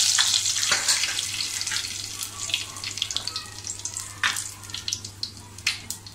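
Mustard seeds and curry leaves hit hot oil in a kadai, producing a crackling sizzle with sharp pops that grow more frequent toward the end, heard close with no talking.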